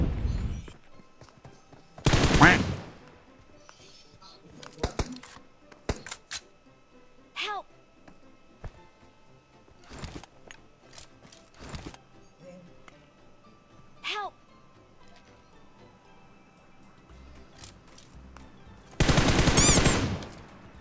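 Gunfire in the battle royale game PUBG during a ranked squad match, with loud bursts of automatic fire around 2–3 s and near 20 s and scattered single shots between, under occasional talk.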